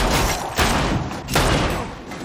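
Gunfire in a tense standoff scene: a continuous roar of shooting with two heavy bursts punching through, loud and near.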